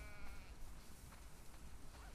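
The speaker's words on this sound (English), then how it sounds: "We definitely have way too many sheep." Sheep bleating on a farm in the video game The Last of Us Part II, faint wavering calls under a steady background hum of game ambience, heard at moderate distance.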